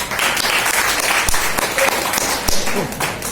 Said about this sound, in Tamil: அனைவரும் கைத்தட்டி வரவேற்போம்